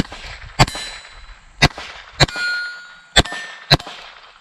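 Five sharp metallic clangs and rings from steel silhouette targets and a large gong struck by Smith & Wesson Model 53 revolver shots in 22 Rem Jet, spaced irregularly, each ringing briefly before decaying.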